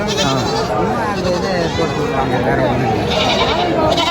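Many goats bleat over and under each other amid a busy early-morning crowd at a market in Tiruchirappalli, with people talking loudly nearby and a constant outdoor hubbub.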